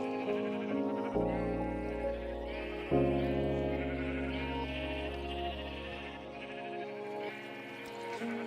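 Minecraft sheep bleating in long, wavering, tonal calls, several overlapping bleats close by that run almost continuously, with no talking.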